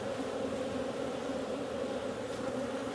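Honey bees fly around an open hive during colony splitting, a dense steady buzzing hum from many insects, close and continuous with no voices.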